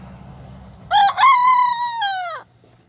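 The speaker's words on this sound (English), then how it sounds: "he's crowing for a different reason this morning" A single rooster crows nearby, one loud harmonic call that rises, holds, and breaks off after about a second and a half over faint background noise.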